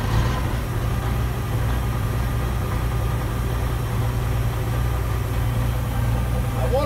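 A smoky 1977 Peterbilt 359 diesel truck, converted into a homemade RV, idles just after starting with a steady, loud low rumble that holds evenly throughout.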